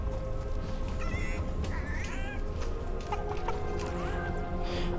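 Several chickens in Fortnite cluck and squawk in short, scattered bursts over a constant low background hum.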